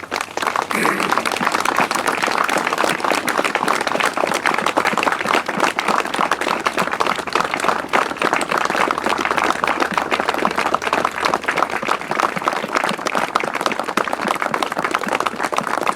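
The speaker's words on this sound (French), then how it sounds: "est-ce qu'on peut acclamer pendant 1 minute sa mémoire" A funeral gathering in Amiens applauds in memory of Hélène, with sustained dense clapping from a crowd that continues steadily and loudly for the whole stretch, alone without speech.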